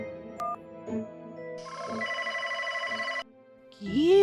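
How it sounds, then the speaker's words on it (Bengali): A phone rings unanswered late at night, a steady electronic ringing tone repeating alone for a couple of seconds, with a brief voice-like sound near the end. "ফোন তো বেজে যাচ্ছে, ফোনটা ধরছে না কেন?"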